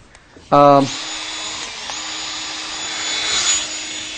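A 1/4-inch electric drill fitted with a small sanding disc whirs up to a steady high-pitched spin after a brief start, running continuously and fairly loud at close range.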